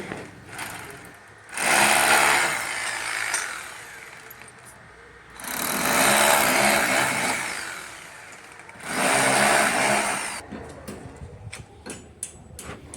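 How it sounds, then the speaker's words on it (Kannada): A power tool drives screws while a gas pipeline connection is installed in a house. Three loud, sustained whirring bursts are separated by short pauses, and scattered sharp clicks follow at the end. "ಈಗೇನು ಸೌಂಡೆಲ್ಲ ಬಂತಲ್ಲ, ಅದು ಸ್ಕ್ರೂ ಹಾಕ್ತಾರಷ್ಟೇ."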